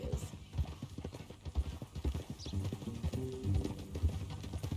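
Horse hooves clip-clop in steady rhythmic beats on a trail in Red Dead Redemption 2, at moderate volume, with occasional voices talking over them.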